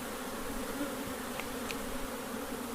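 Bees swarm around a long hive being put back together, a steady, close, even buzz holding on alone without any talk.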